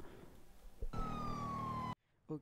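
A police siren from the game GTA 5 with the LSPDFR police mod wails steadily and loudly for about a second, then cuts off abruptly, followed by a brief voice.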